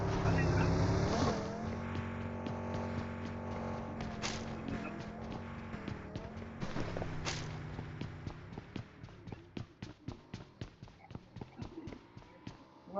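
A vehicle in the BGMI battle-royale game drives off, its engine droning steadily before breaking into a rapid train of sharp clicking pulses as it pulls away.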